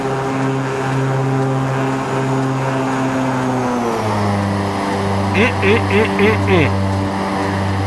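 A King Air 350 turboprop in the X-Plane 12 flight simulator drones with a steady propeller and engine hum that drops in pitch midway, joined by a short series of repeated chirping tones near the end.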